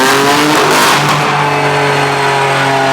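A BMW M3 engine revs hard on a dyno in a workshop, a loud, sustained mechanical roar with steady harmonic tones that climbs and holds throughout, with no talking.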